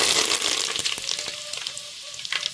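Cumin seeds crackle and sizzle steadily in hot oil in a village kitchen, with scattered sharp pops over a continuous frying hiss, close and moderately loud.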